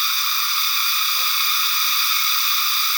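A loud, unbroken chorus of crickets shrills without pause at a nature sanctuary, steady and dense throughout, with only a few faint low thumps beneath.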